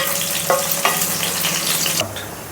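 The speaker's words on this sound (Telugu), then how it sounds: "ఇవి కూడా ఇప్పట్లాగే ఫ్రై చేసుకొని తీసుకోవాలి చూడండి బెండకాయ ముక్కలు పూర్తిగా ఇవి మగ్గినాయి" Okra pieces fry in oil in a kadai, a continuous sizzle with a few sharp spatula clinks and scrapes, the sizzle thinning near the end.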